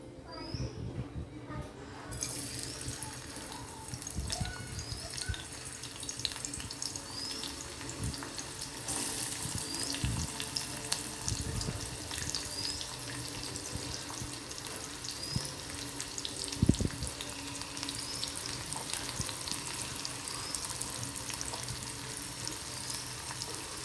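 Onion sautéing in hot oil in a home kitchen, a continuous close sizzle and hiss with occasional stirring clatter, while a voice talks intermittently over it.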